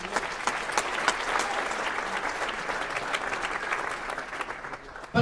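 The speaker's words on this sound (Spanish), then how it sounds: "Dale un aplauso al rey." A church congregation claps steadily in sustained, dense applause after a preacher's sermon about a king. The clapping fades slightly near the end before a sharp sound at the close.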